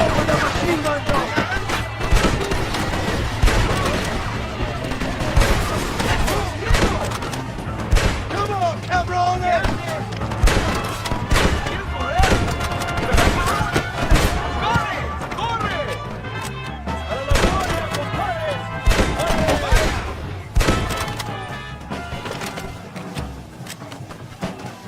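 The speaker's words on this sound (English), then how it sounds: "¡Vamos, la machine gun, John!" Machine gun fire in Red Dead Redemption: loud rapid bursts and repeated impacts over a long stretch, with crashes and booms mixed in and voices shouting at times.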